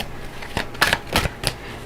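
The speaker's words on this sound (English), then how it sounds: "I just want to apologize for the shuffling" Tarot cards are shuffled by hand, with a few crisp riffling bursts close by in quick succession, the cards slightly sticky, with no talking over them.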